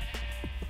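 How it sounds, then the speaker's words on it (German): A purple sheep in Minecraft bleats three short times in quick succession, the calls clear and close over a steady low background hum. "Ein lila Schaf ist auf dem Eis."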